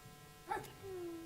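A dog gives a single short bark in a radio drama of Peter Pan, a brief, soft yelp over a quiet background.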